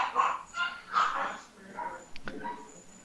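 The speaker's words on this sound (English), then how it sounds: "it does look like we are hearing some dogs in the background" Dogs barking in the background of a StarCraft II cast, a few short yelping barks mixed with thin whimpers, fairly faint and distant under a busy soundscape.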